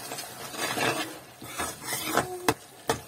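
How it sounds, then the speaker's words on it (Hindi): Coriander powder is stirred into a cooking tomato and onion mixture in a pan. Quiet, uneven scraping strokes are followed by a couple of sharper spoon knocks near the end. "1 टेबलस्पून यहाँ पे हम ऐड करेंगे धनिया पाउडर, और इसे अच्छे से हम मिक्स कर लेंगे"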